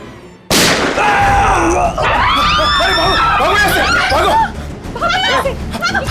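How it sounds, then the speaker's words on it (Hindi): Gunshot fired indoors during a scene in a TV crime drama: a loud sudden burst followed by a dense, chaotic mix of shouting, crowd commotion and echoing noise that continues for several seconds. "अरे अंदर गोली चली अंदर।"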